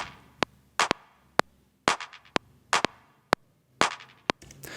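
Sharp electronic claps in a melodic techno groove hit in a syncopated pattern, some crisp single snaps and others smeared with short noisy tails, loud and dry with no other sound.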